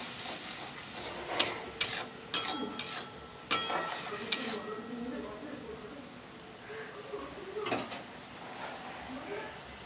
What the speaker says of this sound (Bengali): এবার মশলাটা তেল ছাড়া অবধি ভালো করে কষিয়ে নেবো